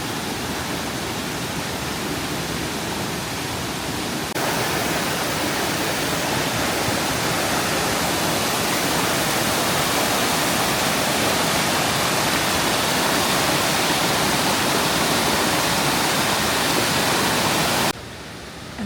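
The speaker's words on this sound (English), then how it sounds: "There's the runoff from the waterfall." A waterfall in autumn hills, with runoff from the falls, roars as a steady, dense wash of rushing water that stays loud and unbroken throughout, with no voices.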